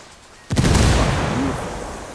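A frag grenade goes off in Ghost Recon Wildlands, destroying a prototype submarine: one sudden loud blast after brief quiet, followed by a long rumbling decay with no voices over it.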